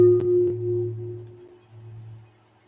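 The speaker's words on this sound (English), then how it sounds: "It's a chime. It's about 7 feet long." A seven-foot-long chime rings out with a couple of close strikes near the start, each settling into a deep, steady hum that slowly fades over a few seconds in a quiet room.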